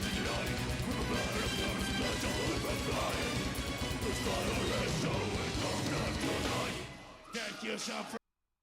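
Death metal blast beat drumming from a drum cam, a dense, rapid barrage of kick, snare and cymbal hits played at extreme speed, loud and relentless before breaking into a few scattered crashes and stopping.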